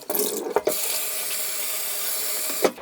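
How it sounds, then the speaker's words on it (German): Cold tap water pours into a pot of raw potato fries being rinsed, a steady close splashing rush broken by a couple of short knocks near the start and end. "die einmal in den Topf reingeben und die spülen wir jetzt einfach mal kalt ab."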